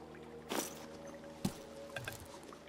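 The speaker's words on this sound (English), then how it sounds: "I'm gonna just stick my backpack in the water." A backpack dipped into water in Winter Survival Simulator, a video game, gives soft splashes and squishy sloshing in a few brief bursts, close and fairly quiet, with no voices.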